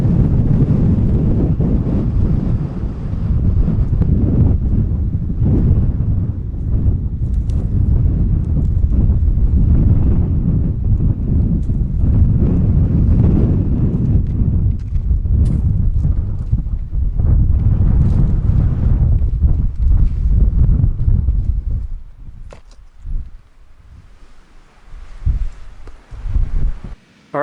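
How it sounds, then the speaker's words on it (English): Wind howls outside an abandoned mine adit portal in California's El Paso Mountains, heard from just inside as a loud, continuous roaring buffet with gusts that suddenly falls away to quieter, sporadic rustles near the end. "the wind is just howling outside right now."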